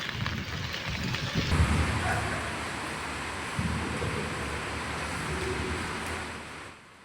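Heavy monsoon rain pours during flooding in Hazaribagh district, Jharkhand, a dense, continuous hiss with a low rumbling undertone that holds steady for several seconds before easing off.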